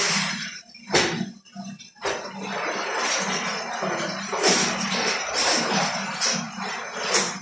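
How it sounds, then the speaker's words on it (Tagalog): Clothes and school uniforms being washed by hand in water, with wet squishing, sloshing and scrubbing close by and occasional clinks of a basin, coming in irregular bursts. "Nandito naman ako maglaba. Ang aking mga uniform."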